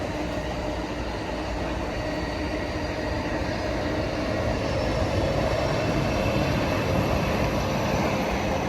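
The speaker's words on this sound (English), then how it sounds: "An Amtrak Pacific surf liner with 7 wagons." Amtrak Pacific Surfliner passenger train with seven cars passing close by, a steady loud rumble and rolling roar of wheels on rails throughout, no voices.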